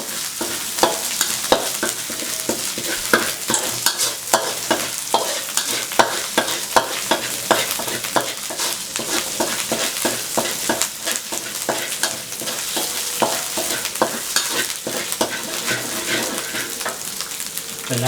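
Spicy pork ribs stir-fried in a pan, giving a steady loud sizzle with repeated sharp clanks and scrapes of a spatula throughout, close up and without speech.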